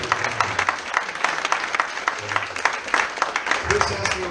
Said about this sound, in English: give them a round of applause so they can hear it